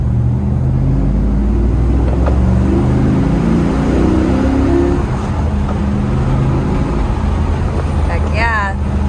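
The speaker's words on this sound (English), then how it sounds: "The shifts to the gear is really nice." A 1997 Pontiac Trans Am drives and works through its six-speed gears, its engine a steady loud low drone with a rise and shift midway, heard from inside the car with voices over it.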